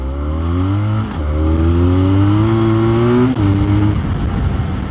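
A Benelli 502C motorcycle engine revs loudly up and down nearby, two sustained climbing pulls broken by brief dips, with no speech.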